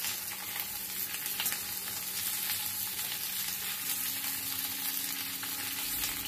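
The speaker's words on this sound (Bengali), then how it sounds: "এবার সব কিছু ভালো করে মিশিয়ে দিয়ে নাড়াচাড়া করে নিচ্ছি।" Capsicum pieces and onion stir-fried in a pan give off a steady, even sizzle from start to finish, close and unbroken, with no talking.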